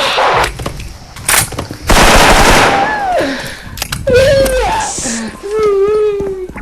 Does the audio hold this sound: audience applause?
no